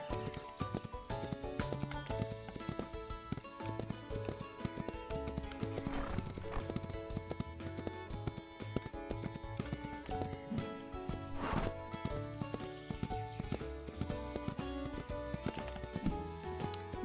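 A small grey pony on a ranch in a video game: hoof clip-clops and a whinny sound over continuous game music, which stays prominent throughout.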